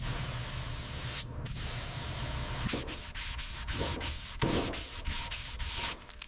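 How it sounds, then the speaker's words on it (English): Sanding a primed Dodge car body panel during a restoration: rough, hissing back-and-forth strokes against the surface, continuous at first, then turning into a rhythmic series of separate passes with brief breaks between them. "Sanding again."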